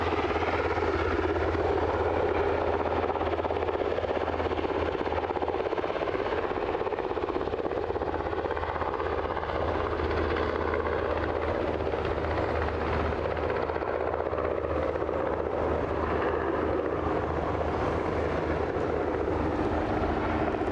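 A CHC helicopter at Aberdeen airport, a steady distant rotor thrum and turbine whine held evenly throughout, no voices.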